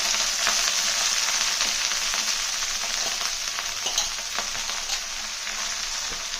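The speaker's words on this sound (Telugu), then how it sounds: "ముందుగా మనము ఆయిల్లో ఈ తోటకూర పెట్టుకోవాలి" Amaranth leaves fry in oil in a pan, with a loud, continuous hissing sizzle and faint crackles throughout.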